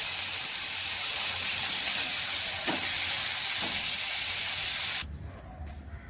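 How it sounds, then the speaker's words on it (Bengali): Bitter gourd frying in hot oil in a home kitchen gives a loud, close, continuous spitting hiss that cuts off abruptly near the end, leaving a quieter room. "এবার উচ্ছেটা একটু ভেজে দিচ্ছি।"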